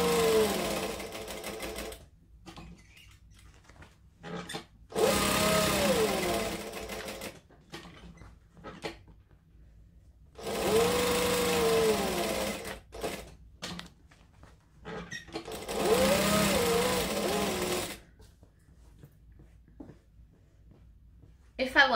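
A sewing machine bastes fabric pockets together in several loud bursts of rapid stitching, separated by quieter gaps with light handling noises.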